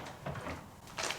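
A hotel room drawer at The Mirage in Las Vegas slides open in a few brief, close wooden rumbles and knocks, with no talking.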